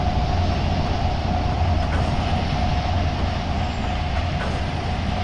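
A train in the Trainz 19 railway simulator game rolls steadily, a loud continuous rumble with a constant hum and occasional faint clicks of wheels on rail, no voices.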